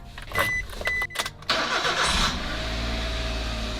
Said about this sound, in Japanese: エンジンオイルを温めるためにエンジンをかけていきます。